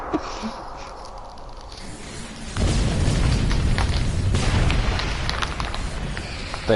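Starships exploding one after another in a Star Trek Online space battle: after a quieter stretch, loud, dense, rumbling blasts and crackling bursts pile up and continue to the end.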